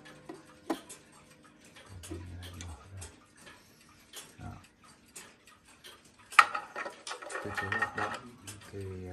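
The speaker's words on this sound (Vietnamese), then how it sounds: "Thì cơ chế hoạt động của chiếc đồng hồ này" Sharp, separate ticking clicks come from a Zenith Swiss mechanical watch, mixed with handling clatter and brief bursts of louder noise.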